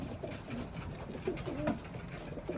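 Racing pigeons in a loft coo softly in low, rolling calls over a steady background hiss, with no voices.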